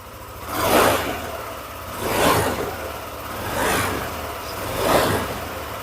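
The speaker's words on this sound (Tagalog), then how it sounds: "Ayan o, tingnan nyo, i-rev ko." A motorcycle engine is revved four times in a steady rhythm, each rev rising and falling back to idle, heard up close and alone with no talking.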